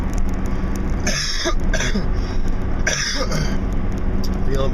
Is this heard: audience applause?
no